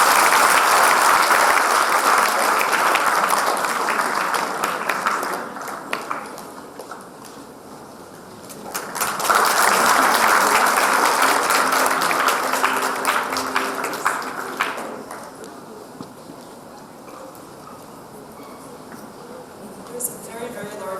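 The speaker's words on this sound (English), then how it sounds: "big huge round of applause for her." Audience at a high school Model United Nations closing ceremony applauding in two long waves of dense clapping, loud and close, with quieter stretches between and talk faintly underneath.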